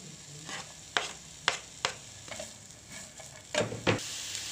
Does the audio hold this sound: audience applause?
no